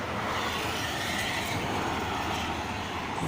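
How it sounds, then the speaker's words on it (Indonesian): A bus pulls out of a highway rest area on the Cikampek toll road in the morning, a continuous low engine and road rumble with wind noise, steady and moderately distant, without speech. "Ini ada bus baru keluar dari rest area."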